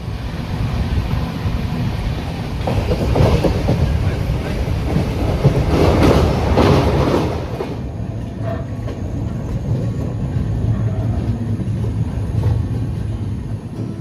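A passenger train runs on rails near NJP station in the early morning, a loud, continuous rumble with rattling clatter that swells in the middle and then settles to a lower steady roar.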